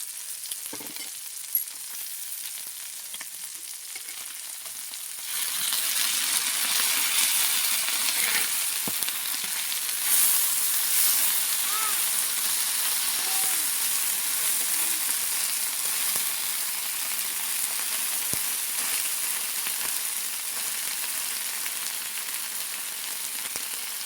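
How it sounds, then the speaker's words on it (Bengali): River fish frying under a lid in a pan, starting as a faint quiet sizzle that swells after a few seconds into a loud, steady, continuous crackle lasting about twenty seconds, with occasional small pops. "যেইভাবে আমি ভেজেছি প্রথমগুলো, এইভাবে সবগুলো ভেজে নেব।"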